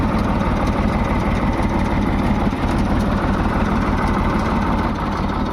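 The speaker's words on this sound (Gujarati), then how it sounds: "એટલે હવે અત્યારે વિદિતભાઈ ટ્રેક્ટર લઈ આવે." A tractor engine idles close by, a steady loud low rumble with a constant vibrating chug and no change in pace.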